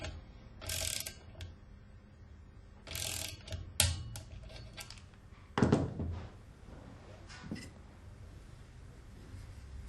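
Valve clamp on an Alfa Laval Unique Seat valve being tightened to a maximum of 10 newton meters, giving a few separate bursts of ratcheting clicks and metallic tool contact with pauses between them, close and fairly quiet.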